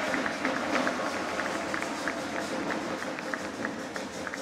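Sustained applause from an audience honoring Licenciado Mendoza and other officials at a medal presentation during a regional oratory contest final in Chiriquí, a steady dense patter of clapping with a crowd murmur throughout.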